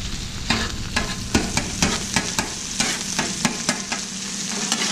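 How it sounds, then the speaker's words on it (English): Chorizo fries on a Blackstone griddle with a constant close sizzle, while a spatula scrapes and stirs in quick, regular strokes about twice a second. "Chorizo is not very hard to cook. It's pretty quick."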